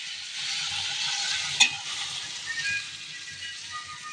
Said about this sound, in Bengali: আর এদিকে আমাকে সবজিগুলো দিয়ে কষিয়ে নেব।